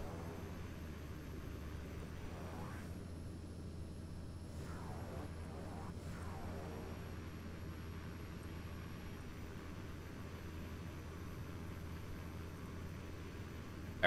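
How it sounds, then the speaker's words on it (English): A turboprop's steady engine drone fills a landing in the X-Plane flight simulator, with a whooshing surge as reverse thrust kicks in and fades, under a continuous hum, while someone talks over it. "One thing I do like about this turboprop, it has a reverser, so I can slow my rate of"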